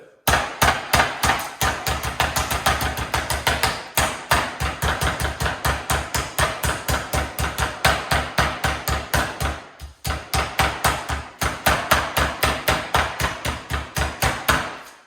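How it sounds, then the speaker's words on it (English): Meat being pounded flat with a mallet in a home kitchen, rapid loud repeated thuds in steady runs of blows with brief pauses between them, close and unaccompanied by talk. "So I have my mallet here, and this is going to be loud."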